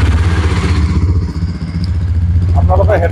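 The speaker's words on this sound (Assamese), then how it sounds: "আপোনালোকৰ গাড়ীখনৰ মানে ষ্টাৰ্ট দি চাউণ্ডটো শুনাবলৈ চেষ্টা কৰিম।" A 2024 Yezdi Adventure motorcycle engine runs with a loud, close, throbbing idle and a steady rhythmic beat, and a voice talks over it near the end.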